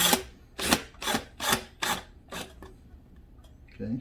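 A self-tapping screw is driven into the barrel of a budget feeder, giving six rasping, grinding bursts in a steady rhythm over about two and a half seconds, close and fairly loud, then a quiet pause.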